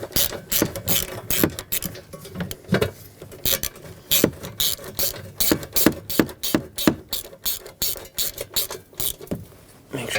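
A ratchet tightening trailer hitch bolts on a 2013–2020 Nissan Pathfinder, rapid rhythmic clicking in quick bursts with short pauses, close and crisp, no voices.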